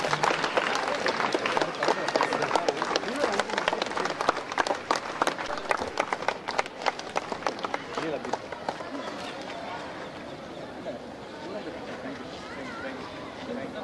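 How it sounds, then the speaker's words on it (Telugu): Children applauding at a school sports event held by police at a boys' school, a dense burst of clapping that thins and fades after about eight seconds, with crowd chatter and a voice over it. "పిల్లలందరూ చప్పట్లతో ఉత్సాహపరచాలి."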